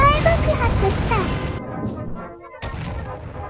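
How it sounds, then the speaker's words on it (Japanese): A rocket breaks apart in a loud explosion in Kerbal Space Program 2, a dense crashing burst that cuts off abruptly, followed by a second rumbling blast, with a faint high whistle afterward. "大爆発した"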